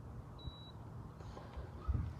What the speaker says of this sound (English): I heard the beep.